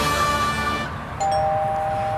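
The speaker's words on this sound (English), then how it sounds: "More bells. Has the world gone mad?" A doorbell-like bell chimes twice: a bright ringing tone fades out, then a second ding sounds and holds, fairly loud and close, with no talk.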